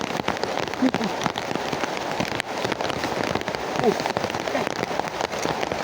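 Steady rain falls close by, drumming on a surface with dense, even patter. A brief voice sounds once over it.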